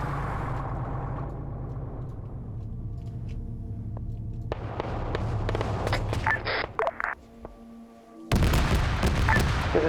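Marksman gunfire in the Arma video game during an airfield assault, sharp distant shots cracking over a low vehicle rumble, then a louder dense burst near the end.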